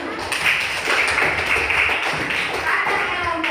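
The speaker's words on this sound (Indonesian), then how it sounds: "Tepuk tangan dulu." Classroom applause for the results of a group discussion, a dense, even patter of students' clapping heard up close, continuous and fairly loud throughout.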